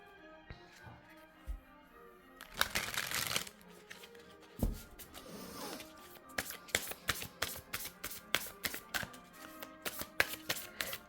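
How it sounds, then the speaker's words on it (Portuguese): Tarot cards, a Paulina deck, shuffled by hand up close: a few soft taps, then a brief flurry and a steady run of quick, crisp card slaps with no talking. "Tô embaralhando aqui cartas de Paulina, como você pode ver."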